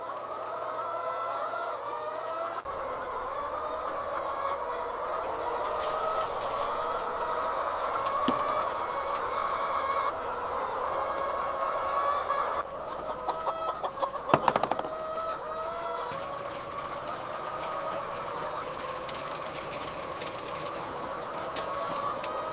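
Hens clucking and murmuring as a steady flock chorus inside a modern egg factory's henhouse, with a continuous low mechanical hum beneath and an occasional louder squawk standing out.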